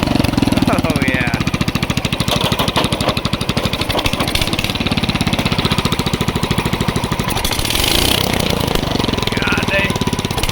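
Homemade riding mower running at idle while it creeps forward under its own power, a steady loud rhythmic engine chug throughout, with someone talking over it.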